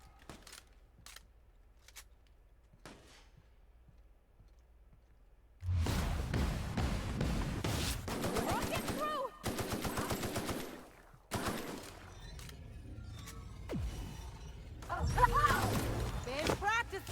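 Rifle gunfire in The Outer Worlds, heard as sharp bursts of shots and impacts that start loud after a quiet stretch, with game effects between them.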